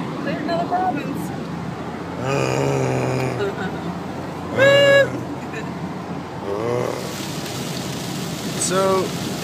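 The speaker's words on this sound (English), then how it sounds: "So it's super rainy." Rain falling on a car driving along a wet highway in New Brunswick, a constant dense patter and road hiss with people talking inside the vehicle over it.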